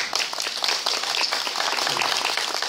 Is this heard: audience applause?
yes